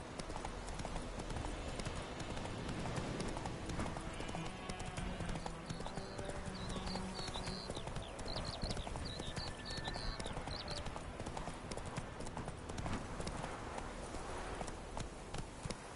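Roach, a horse in the video game Witcher 3, gallops with steady, loud clip-clop hoofbeats throughout, over a busy game soundscape with faint chirping in the background.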